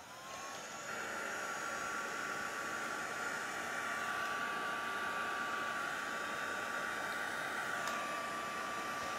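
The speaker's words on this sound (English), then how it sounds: "I'm going to use a heat tool this time to blow this around." A heat tool blowing alcohol ink across synthetic paper gives a steady, loud, close airflow roar with a whine, running continuously for the whole stretch with no talk.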